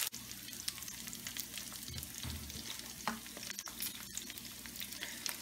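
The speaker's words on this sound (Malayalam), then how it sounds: "സോ ഈ പെപ്പേഴ്സ് നന്നായിട്ടൊന്ന് സ്റ്റിയർ ഫ്രൈ." About seven chili peppers are stir-fried in oil for a broccoli garlic dish, giving a continuous moderate sizzle broken by scattered utensil scrapes and taps.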